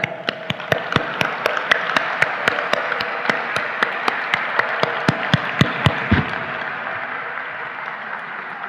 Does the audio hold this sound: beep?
no